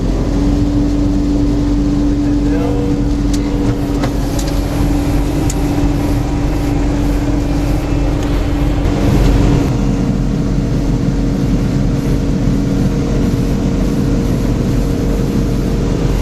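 A walnut harvesting machine's engine roars steadily at high throttle, loud and continuous, with a blowing rush layered over the drone.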